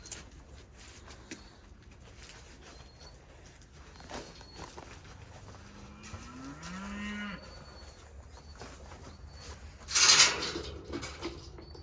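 A family dairy cow gives one drawn-out low moo after milking, heard close over quiet barn noise, followed by a brief metallic clatter near the end.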